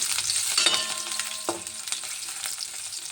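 Diced potatoes for batata poha fry in a pan over lowered heat, giving a steady close sizzle with a few sharp pops and utensil clinks over about three seconds.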